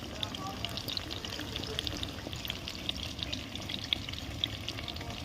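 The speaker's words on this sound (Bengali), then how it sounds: "বন্ধুরা একদম হালকা আঁচে ভাজতে হবে এটা, যেন ভেতর থেকে সেদ্ধ হয়ে আসে।" Chicken pakoda pieces frying gently in oil on low heat, a soft continuous bubbling sizzle with faint crackles, fairly quiet and steady throughout.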